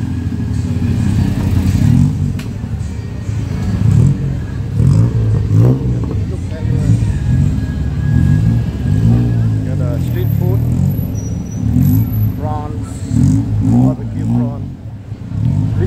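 Tuk-tuks and taxis rumble and rev through night traffic beside Pratunam night market in Bangkok, with steady close engine noise under a person talking nearby.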